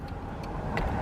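A car engine stuck in idle gives off a steady, low, close rumble with a few faint ticks on top and no voices.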